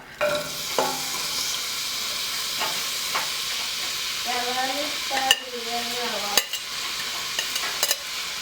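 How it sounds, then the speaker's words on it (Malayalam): Onions sauté in two tablespoons of ghee in a pan for Thalassery chicken biryani, a steady close hiss with scattered crackles and stirring scrapes, and brief voice-like tones in the middle. "ഇനി ഇതിലേക്ക് സവാള ഇട്ടൊന്ന് വഴറ്റിയെടുക്കാം"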